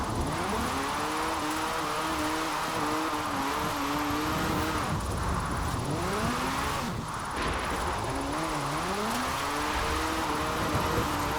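A JDM car engine revs in a Forza Horizon 4 drift build, the pitch climbing and falling in repeated sweeps over steady loud engine drone and road noise, with no talk.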